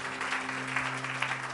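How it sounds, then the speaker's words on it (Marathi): An audience at a church sermon claps loudly and steadily, dense applause filling the space with a faint hum underneath. "जरा जोरदार टाळ्या प्रभूच्या गौरवासाठी."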